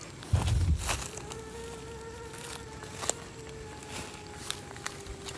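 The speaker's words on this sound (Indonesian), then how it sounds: "Bukan nangis, ini suara nyamuk kan, Jun?" A mosquito whines indoors in a quiet house, its thin buzzing tone wavering faintly near and then away, with a brief thump at the start and a few small knocks.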